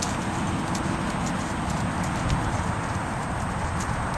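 A horse's hooves clop steadily on hard ground in an even walking rhythm, close by and fairly loud, with no talking.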